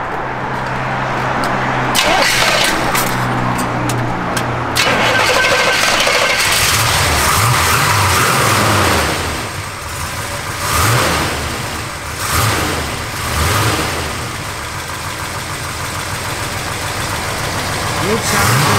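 A 1971 Chevrolet Chevelle SS convertible, mild cam and no big performance parts, cranks over and fires, then settles into a steady, fairly loud idle with a few light revs, while people talk nearby.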